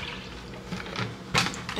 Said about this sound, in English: I'm gonna fill the rest with water.